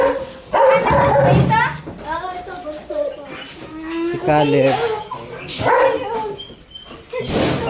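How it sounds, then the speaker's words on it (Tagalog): A Malinois cross (German and Belgian Shepherd) named Rawi barks noisily at a birthday celebration, its short barks and whimpers scattered through near, steady conversation among adults and a child. "Maingay yung aso natin."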